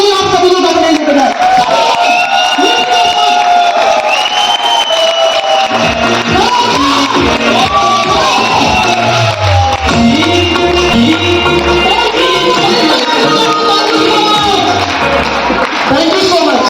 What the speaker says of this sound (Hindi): पावरफुल एनर्जी के साथ, सीटी के साथ, व्हीलिंग के साथ जोरदार ताली आप सभी लोग अपने लिए बजाएं